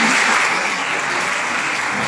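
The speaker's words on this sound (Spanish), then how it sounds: "Felicidades, aplausos." Sustained applause from an audience at a municipal innovation workshop for women mayors, a steady dense clapping that holds level for the whole stretch with no voices over it.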